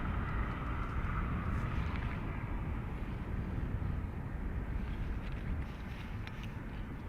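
A Ryanair airliner departing Dublin Airport for Bristol, a steady, broad roar of jet engine noise holding loud and even throughout, mixed with some wind rumble and no talk.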